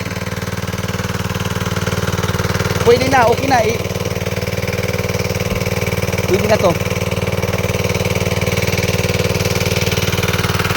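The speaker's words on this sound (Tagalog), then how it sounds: "sa dalawang motor ang pagigop o pagkuha ng tubig" Steady, loud motor drone of two engine-driven water pumps feeding one hose from a very deep source, running continuously, with brief bits of nearby speech over the constant hum.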